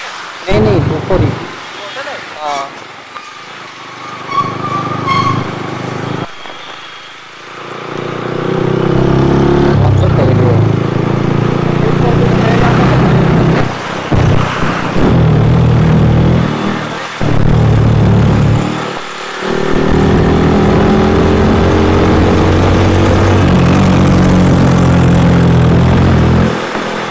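Motorcycle engine idling and revving up close, with loud sustained engine noise and rising revs through most of the stretch, while people talk over it.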